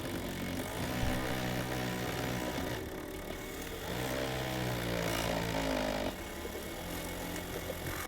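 Die grinder with a polishing attachment smoothing the intake port of a Yamaha YZ426F cylinder head, a steady high-pitched whine with a strong hum underneath that shifts in pitch as the load changes, close and continuous.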